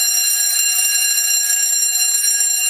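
A building fire alarm sounds continuously, a loud, steady, piercing electronic bell tone with a fast rattling pulse, heard alone with nothing else in the background.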